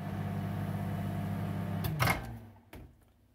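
A steady low electrical hum of a microwave oven running, ending with a couple of sharp clicks and clatters as it stops.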